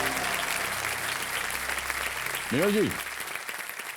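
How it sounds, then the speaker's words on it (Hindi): Studio audience applause on the Kaun Banega Crorepati quiz show set, as steady continuous clapping throughout, with a brief spoken name from a voice over it partway through. "जोरदार तालियां बज जाए एक बार जनता की।"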